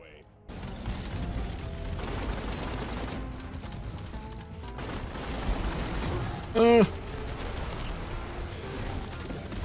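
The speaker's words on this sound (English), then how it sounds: "I wonder how the 2-round burst still does with automatic fire" Automatic gunfire from a two-round burst weapon in the co-op shooter Deep Rock Galactic, with rapid shots running through a steady, busy game soundscape and one sharper, louder burst near the end.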